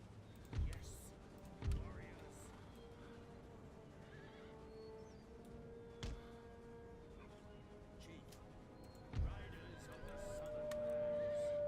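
Horses whinny several times in the game Empire: Total War against a low background rumble, with a few sharp neighs spaced out over the clip and a rising drone at the end.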